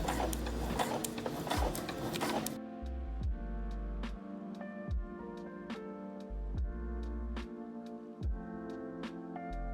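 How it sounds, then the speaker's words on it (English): A sewing machine stitches a scuba fabric dress with a 3.5 stitch length, running in a steady fast mechanical patter with a louder whirring stretch at the start, then settling into rhythmic ticking close by. "I'm going to take this to my sewing machine."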